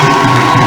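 A crowd cheers loudly at a testimony gathering, a dense, steady roar of voices that fills the whole moment without a break.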